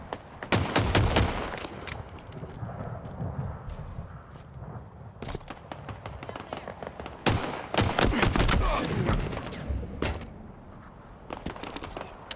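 Gunfire during a Halo multiplayer match: dense bursts of rapid automatic shots and single cracks in clusters, loud and close, with brief lulls between volleys.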